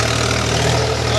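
An Eicher 485 tractor engine runs steadily at low, even revs while pulling a harrow in a field, a loud close continuous diesel rumble with no speech over it.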